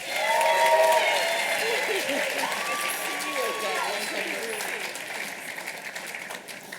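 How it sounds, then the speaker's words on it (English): A large audience applauds graduates receiving doctorates at a medical and dental school class day ceremony, the sustained clapping loud at first and then slowly thinning. "Please give a warm round of applause to the Canon graduates, doctors for 2023."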